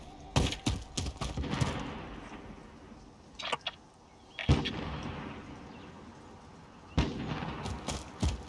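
Explosions and gunfire in Call of Duty Warzone, a string of sharp blasts and cracks, some close and loud, others more distant, arriving in bursts separated by brief lulls.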